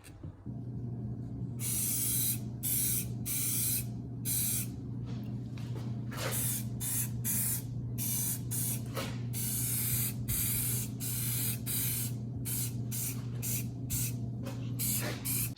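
Spray can laying gloss apple red and clear coat onto a 2009 Saab 9-3 2.0T dashboard, a loud close hiss in long bursts separated by short breaks, repeated steadily throughout.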